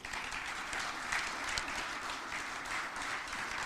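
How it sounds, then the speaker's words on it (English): Steady crowd applause at a Li-Cycle announcement about its Rochester Hub facility, a dense even clapping that runs the whole time with a few sharper claps standing out, moderately loud and with no voices above it. "I think we have to start with a round of applause about this."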